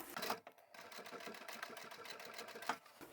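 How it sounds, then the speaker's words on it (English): A sewing machine top stitches around a zippered pouch made with a turned-in zipper end, giving a fairly steady, close mechanical chatter with a short pause early on and no talking. "I'll start sewing here, top stitch all the way around"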